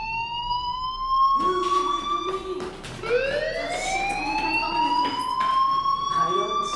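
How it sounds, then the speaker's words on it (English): A fire alarm sounds in the Life is Strange video game: a loud, continuous electronic wail with a steady pitch that sweeps up and repeats, dominating the clip. "do you hear that fire alarm? That means you should be outside."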